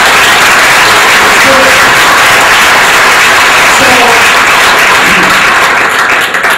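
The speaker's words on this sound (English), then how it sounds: "So I want to give them a round of applause right now." Loud, dense round of applause from a Yorktown Chamber of Commerce audience, sustained evenly throughout and close, with some voices mixed into the clapping.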